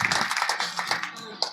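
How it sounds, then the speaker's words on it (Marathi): An audience at a Marathi kirtan in Phutgaon claps in a quick burst of sharp, uneven hand claps that thin out toward the end, with voices mixed in. "टाळी वाजवा रे जोरदार सगळ्यांना."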